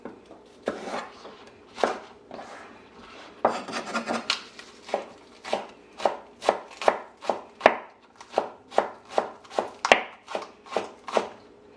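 Knife chopping peppers on a cutting board, a run of sharp, evenly spaced chops that speeds into a regular rapid rhythm, close and loud with no talking.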